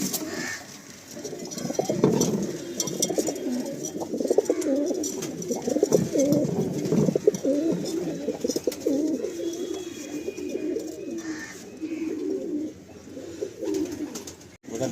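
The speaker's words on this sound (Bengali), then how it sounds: "এই পায়রাগুলো আমি আন্ধ্রা থেকে নিয়ে এসেছি" Andhra pigeons coo steadily in a Kolkata loft, a dense chorus of low, rolling calls from several birds that carries on throughout with little pause.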